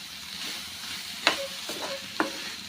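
Brinjal stir-fried with chopped onion greens in a pan over high flame, a continuous sizzle with a few sharp scraping stirs of the spatula spaced through it.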